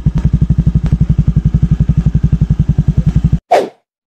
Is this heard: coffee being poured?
no